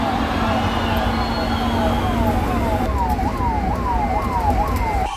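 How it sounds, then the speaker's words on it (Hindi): An ambulance siren wails in repeated falling sweeps outside Apollo Hospital in Belapur, Mumbai, loud and close over steady traffic rumble, its cycles speeding up in the second half. "यहाँ पर एक एम्बुलेंस की आवाज़ आ रही है"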